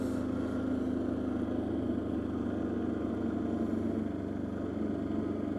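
Arctic Cat Diesel 700 ATV engine droning steadily while riding a trail at low speed, a continuous mid-pitched diesel hum with a faint rhythmic throb, no talk.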